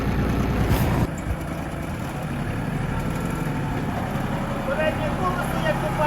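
A Kubota KT 24 tractor engine runs steadily as the quick-turn steering function is used, a close, continuous mechanical drone that shifts slightly in tone after a moment and then holds evenly.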